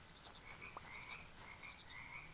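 Frogs croak in the video game Mudborn: faint, softly rasping calls repeat steadily over a low background hum, with one brief click partway through and nothing else.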